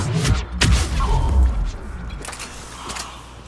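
Biotic charge sound effects from Mass Effect 3 multiplayer, fired again and again in quick succession, producing loud booming thumps and crashes that fade into a lower rumble.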